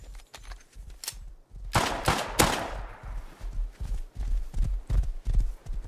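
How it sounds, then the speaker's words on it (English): Horse hooves gallop in the video game Rust, a fast loud clip-clop rhythm of sharp thuds with a few harder bursts, all close and continuous. "that horse goes way too fucking quick"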